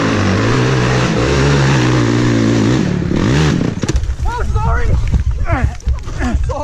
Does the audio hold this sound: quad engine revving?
yes